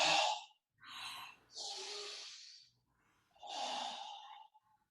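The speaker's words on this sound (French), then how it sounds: "Respiration abdominale 2 fois." Slow abdominal breathing during a yoga session, several soft audible inhales and exhales at close range with quiet pauses in between.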